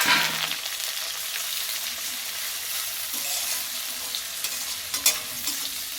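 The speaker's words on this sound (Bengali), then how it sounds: "এটাকে আমি ভালো করে একটু ভেজে নেব পেঁয়াজটাকে।" Chopped onions fry in a pan with a steady, bright sizzle and crackle, occasional stirring scrapes and pops, close up and without any talk.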